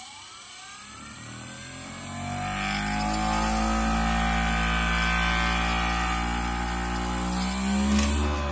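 A spin coater whirring up to speed to coat a circuit board, a rising motor whine that climbs in pitch and sweeps upward over several seconds, then holds as a loud steady hum under a constant high tone.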